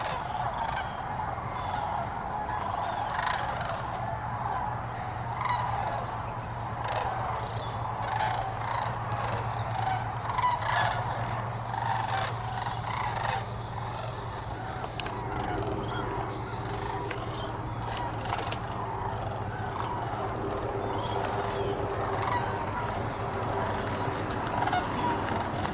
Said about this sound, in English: So that's the sandhill cranes in flight.